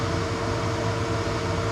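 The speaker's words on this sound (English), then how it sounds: "as you can see, the vacuum table is working really well." The vacuum table runs with a steady mechanical drone, a tonal hum over broadband air noise like a fan. It is close, loud and unchanging through the whole stretch, with no talking.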